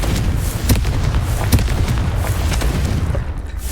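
Confringo blasting spells go off in Hogwarts Legacy, a run of loud, dull booms and bursts repeating at uneven intervals over a dense rumbling game soundscape.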